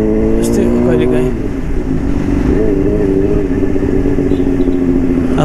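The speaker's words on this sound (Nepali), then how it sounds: "आफ्नै बाइकको आवाज सुनेर अझै पनि म" A Honda CBR motorcycle engine runs close and loud, holding a steady, even drone for the whole stretch with no clear revs or pauses.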